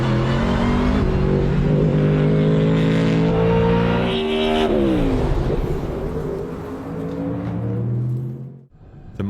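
A Mustang GT3 race car with a Coyote-based 5-liter V8 roars loudly past at full throttle, its engine note climbing through gear changes and then dropping away as it passes.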